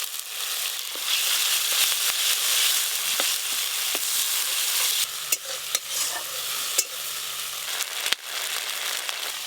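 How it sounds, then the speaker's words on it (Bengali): Cumin paste with turmeric and spices fries and is stirred in a pan with a little water, a loud continuous close sizzle broken by sharp scraping spatula strokes and occasional clicks against the pan. "জল দিয়ে জিরেটা ভালো করে কষবো"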